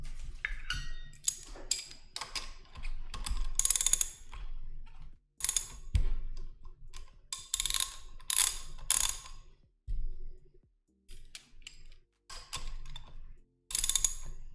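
A ratchet wrench loosens a wheel on a Boosted Board electric skateboard, clicking in quick repeated bursts with short pauses between strokes, close and fairly loud, with a low hum underneath.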